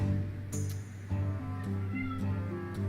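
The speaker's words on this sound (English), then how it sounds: "Can you hear my cat?" A house cat meows a few times in the background during a Hearthstone game stream, the short calls rising over a steady hum of game music and room noise.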